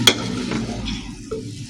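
Masala is stirred through fried beans and yam in a pan, giving a brief utensil clink and then close scraping strokes over a low sizzle, with no voices.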